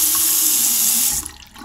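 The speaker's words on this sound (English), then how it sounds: "Delta style faucet." Water runs steadily from a Delta-style faucet into a hotel bathroom sink, a loud even hiss that cuts off abruptly near the end, leaving faint residual drips.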